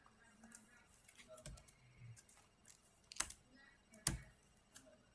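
Keys tapped on a computer keyboard while entering a web address, sparse soft clicks with a few sharper louder strokes, quiet and close in a calm room.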